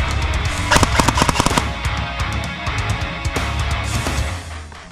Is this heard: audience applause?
no